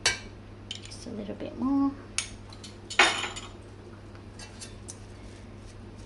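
A teaspoon of garlic being spooned into a bowl for chicken Kiev: a few light metallic clinks and taps of the spoon against the bowl, close and soft, with brief speech in between.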